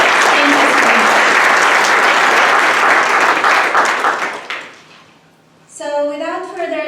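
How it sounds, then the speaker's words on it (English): Loud applause from an audience fills a hall at an awards event, a dense patter of clapping that fades out after about four seconds before a voice begins speaking. "Please join me in giving them a round of applause."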